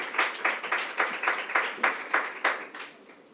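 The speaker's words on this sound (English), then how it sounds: "Thank you for the clapping." A debate audience claps as panelists are invited on stage, a steady wash of applause from many hands with rhythmic swells, filling the hall without any talk over it and fading toward the end.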